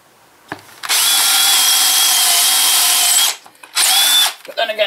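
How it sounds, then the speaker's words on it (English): A power drill on normal (non-hammer) mode whines loudly and steadily for a couple of seconds drilling into breeze block, pauses briefly, then runs again in a shorter burst, close by. "I've not even got this on hammer. It's just on normal drill."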